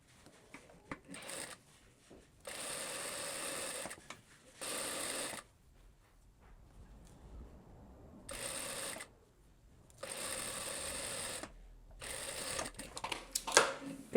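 Domestic sewing machine stitching both side seams of a skirt, heard in several distinct bursts of steady whirring, each a second or two long, separated by quiet pauses and faint handling sounds, with no talk.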